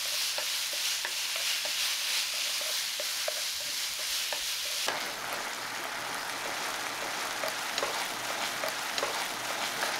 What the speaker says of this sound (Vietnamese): Mình cho hết chỗ thịt bằm vào và xào chín.